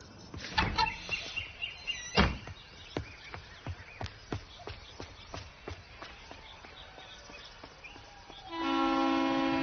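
A train at a busy railway station in a Hindi film scene: a steady run of rhythmic wheel clacks over the rails, then a sustained loud horn blast rising at the end.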